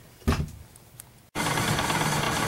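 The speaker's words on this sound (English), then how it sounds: "lathe is going at 530 RPMs" Wood lathe spinning a myrtle wood bowl blank at 530 RPM: a thump and faint hum, then a sudden steady broadband whirring drone for the last second, close and continuous.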